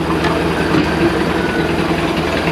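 A boat engine's low, steady rumble runs continuously with a slight change in tone partway through as it shifts into reverse, close and fairly loud, no voices.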